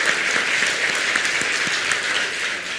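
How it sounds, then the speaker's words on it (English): Audience applause at a forum between President Obama and young entrepreneurs in Vietnam: steady, dense clapping from a large crowd fills the whole stretch at an even level. "Give them a big round of applause."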